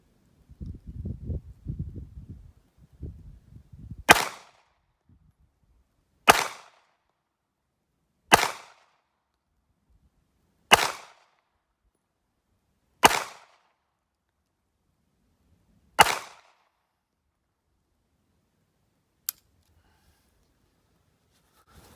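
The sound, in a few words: six gunshots fired at a shooting range target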